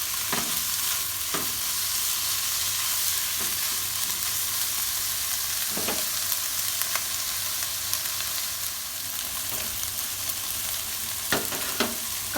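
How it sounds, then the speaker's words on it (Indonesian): Chicken fries in a pan for Hong Kong fried rice with a steady loud sizzle, while occasional scrapes and taps of a spatula stir it close by. There is no talk. "dimasak sampai daging ayamnya empuk"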